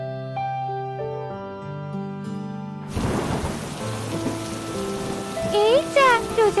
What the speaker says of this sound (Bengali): এদিকে বৃষ্টিও এলো